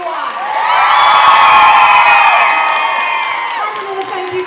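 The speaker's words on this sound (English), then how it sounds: "Big round of applause for everyone." A masquerade crowd at a convention cheers and whoops loudly, a sustained mass of shouting voices that swells and then fades over a few seconds.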